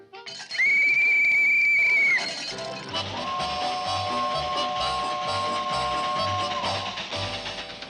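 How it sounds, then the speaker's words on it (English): A loud, shrill whistle blows for about two seconds, followed by a lower sustained whistle tone over rumbling, rhythmic clatter. "Yeah, whistle for Gerber's Crossing."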